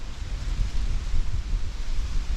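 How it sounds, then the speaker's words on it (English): Wind gusts on a cool, windy day along the Appalachian Trail near big oaks, a steady low roar buffeting the microphone with rising and falling surges, no voices. "windy day"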